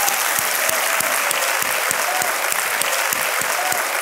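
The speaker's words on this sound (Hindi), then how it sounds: "बहुत ज़्यादा तालियां बजनी चाहिए" A studio audience on a televised quiz game show applauds in a loud, dense, continuous roar of clapping, with some rhythmic accents in the crowd, close and filling the whole stretch with no talking.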